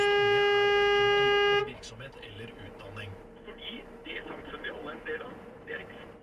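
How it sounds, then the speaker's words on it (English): A car horn blares loudly in one sustained blast of about a second and a half, warning a truck. Busy road noise and voices follow. "the driver who took the video alerted the truck by honking their horn and flashing their lights"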